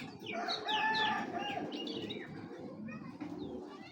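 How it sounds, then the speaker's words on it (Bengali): An Indian Saharanpuri female pigeon with clipped feathers, cooing amid busy background noise that includes higher bird chirps and possible wing flaps. "ইন্ডিয়ান শারজানপুরি একটা মাদি কবুতর"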